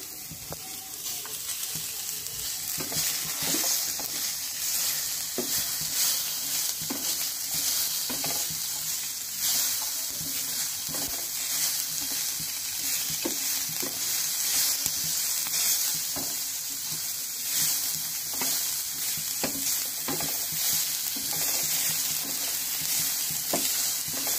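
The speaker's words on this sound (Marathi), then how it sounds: "मिरची, लसूण आणि अद्रक हे आपल्याला एकत्रच भाजून घ्यायचे आहे" Chili, garlic and ginger roast together in a pan, with tomatoes in it too, under a loud, continuous sizzle and a steady crackle broken by frequent stirring scrapes, close and unbroken with no voices.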